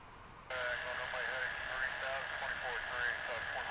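Airliner departing DFW International Airport, a distant engine roar that switches on abruptly and swells into a wavering high whine, while people talk over it.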